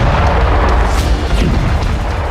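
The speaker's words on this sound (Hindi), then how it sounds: "डोनेट्स्क में रूस ने फैब 500 बम से यूक्रेन के हथियार डिपो को नष्ट कर दिया" A FAB-500 bomb blast destroys a weapons depot in Donetsk, a loud, sustained, rumbling boom that fills the whole stretch without a break.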